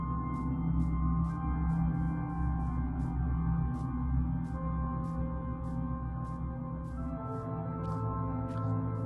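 An early Minecraft song plays quietly on the game's menu: soft sustained synth tones over a low bass bed with a light, regularly pulsing tick.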